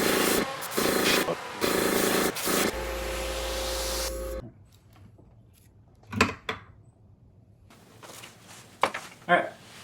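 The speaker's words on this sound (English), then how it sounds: "all I'm going to do is just start spraying with gold over that" Short bursts of an aerosol can spraying gold paint onto a crankbait fishing lure, then a steady machine hum, followed by quiet handling noises and faint clicks.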